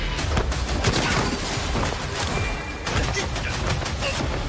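A loud, chaotic explosive blast with rumbling crashes and debris-like thuds filling the whole stretch, dense and sustained.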